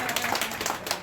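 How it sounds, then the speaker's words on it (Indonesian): An audience at a business seminar breaks into brief applause, a dense patter of many hands clapping together, moderately loud and lasting about a second. "Tepuk tangan, tepuk tangan."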